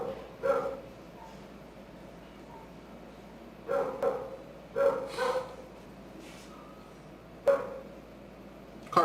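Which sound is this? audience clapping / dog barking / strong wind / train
dog barking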